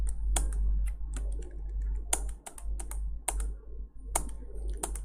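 Keys clack on a computer keyboard during data entry in ERP software, irregular close taps and a few sharper strokes over a steady low hum.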